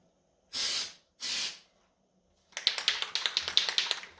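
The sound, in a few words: glitter spray paint spraying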